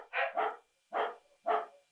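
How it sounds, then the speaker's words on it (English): A dog barks indoors, three loud sharp barks in quick succession, the first a double bark, with silence between them. "so that's my dog's barking"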